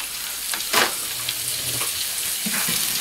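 Lamb mince frying in a pan for moussaka gives a steady, close sizzle, with a louder stirring scrape near the start and a few more utensil scrapes after it.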